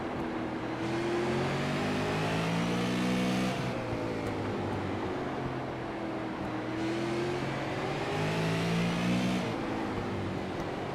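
Super late model race cars lap Slinger Speedway in a Mystic Super Late Model Tour race, their engines revving and droning in rising and falling sweeps as they pass continuously, with no talk.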